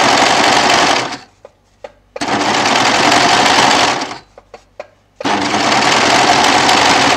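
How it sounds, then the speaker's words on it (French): An overlocker serger stitches fabric in three loud, steady bursts of rapid motor hum, separated by short pauses with a few light mechanical clicks. "on va aller commencer le surjet"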